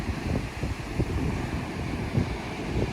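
Steady wind blows across a beach with small surf of about 2 to 3 feet on a hazy, chilly day, a broad continuous rush of wind noise on the microphone with faint wave wash underneath and no talking.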